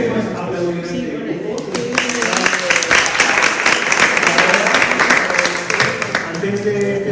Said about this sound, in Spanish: no sé si hemos aplaudido.